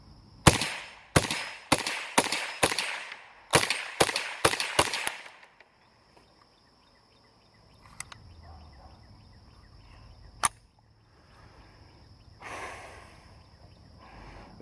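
Sharp rapid-fire cracks from a Savage 64-F left-handed rifle, about a dozen shots in quick succession outdoors, then quiet with two more isolated cracks later.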